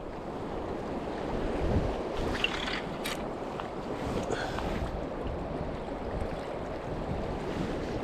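Strong downstream wind gusts along a river during spring salmon fishing in the Borders, a continuous rushing roar buffeting the microphone with occasional brief knocks.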